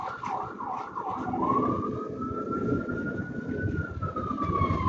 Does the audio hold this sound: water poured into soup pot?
no